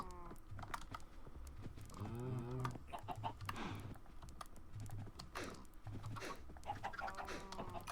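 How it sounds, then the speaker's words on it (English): Minecraft chickens cluck repeatedly in quick, overlapping bursts throughout, close and steady, with a faint game backdrop and no talking. "I'll breed the chickens."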